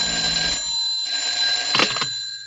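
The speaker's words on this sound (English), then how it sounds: "I was just putting on my hat and coat when the phone rang." A telephone bell rings in an old radio drama, a loud metallic trill with a sustained ring and a brief break, sounding close and alone.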